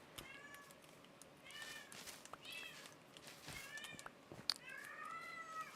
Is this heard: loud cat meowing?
yes